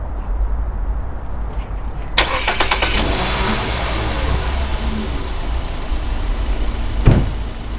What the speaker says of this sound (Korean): 시동을 걸어서 엔진 소리 한번 들으시고 얼마나 조용한 놈인지 한번 보셔야겠죠